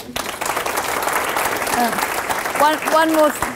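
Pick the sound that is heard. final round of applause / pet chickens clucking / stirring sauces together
final round of applause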